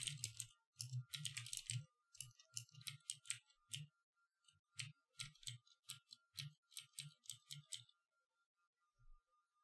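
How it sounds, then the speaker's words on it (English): Rapid, close computer keyboard typing with a key misbehaving, clicking in quick bursts with short pauses and tapering toward the end, quiet and with no one speaking. "My keyboard is mucking up again."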